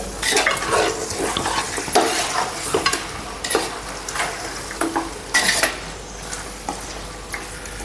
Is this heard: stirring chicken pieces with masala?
yes